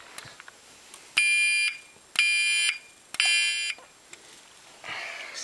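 A fire alarm sounding during a system test gives three loud electronic tone bursts, each about half a second long and spaced roughly a second apart, with faint clicks and low room noise between them.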